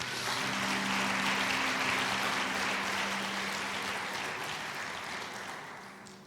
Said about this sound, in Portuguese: aplauda ao Senhor Jesus por isso